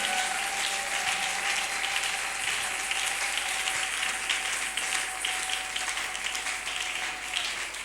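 Congregation applauding at a church prayer seminar, dense sustained clapping from a crowd, even and continuous with a faint steady tone underneath.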